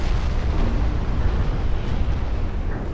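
A heavy naval shell strikes a battleship's main armor belt in the Ultimate Admiral Dreadnoughts game, a dense, rumbling explosion roar sustained loudly for the whole stretch with no voices over it.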